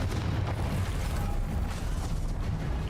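Explosive spell blasts in the wizarding video game Hogwarts Legacy, a dense, continuous rumble of booming bursts and mechanical clatter, loud and sustained without pause.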